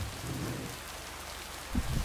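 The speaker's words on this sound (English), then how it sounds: "You'll need your raincoat all day long and there will be a thunderstorm tonight." Steady rain falls in the video game Lake, a dense continuous hiss of drops on surfaces with low rumbling swells and a soft thunder-like thump near the end, with no voices.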